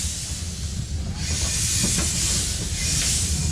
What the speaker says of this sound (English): I better open the cylinder cocks. And pull the throttle, and away we go